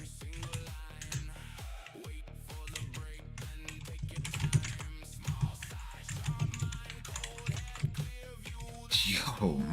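Rapid, heavy typing on a computer keyboard during a late-night futures trading session, with a steady clatter of keystrokes running through a busy, tonal background.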